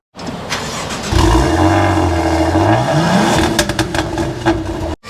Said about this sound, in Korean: 마세라티 같은 경우에는요 고막을 찢어버리는 듯한 우렁찬 이 배기음 사운드가 기깔나는 자동차인 것 같아요